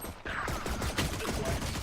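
Rapid gunfire from a Valorant match, a dense burst of shots and clattering weapon noise continuing throughout at steady loudness, close and busy.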